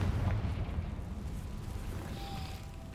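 A Confringo blasting spell explodes in Hogwarts Legacy, a loud low rumbling boom at the start that decays into a sustained roar, with no talking.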